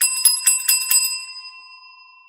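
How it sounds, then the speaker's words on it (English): A bicycle bell rings in four quick, bright dings, then its metallic tone rings on and fades out alone, with no talk. "get another bell for that"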